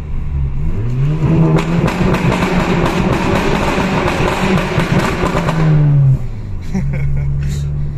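A Volkswagen Golf 6 GTI engine revs hard and loud close by, holding a strained, rising roar for several seconds before dropping back to a rough idle.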